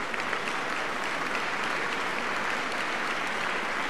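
Applause in the video game The Lion's Song, a steady even wash of crowd clapping for a concert performance, alone and fairly full throughout.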